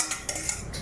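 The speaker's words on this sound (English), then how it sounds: "Mix that in with your egg." A utensil whisking buttermilk and egg together in a bowl, a quick run of close, light clinking strokes lasting under a second.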